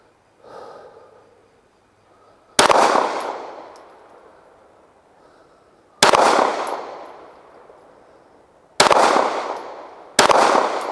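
Rifle or pistol shots fired at a paper target on a shooting range, four loud sharp reports spaced a few seconds apart, each ringing out with a long echoing decay, no talk.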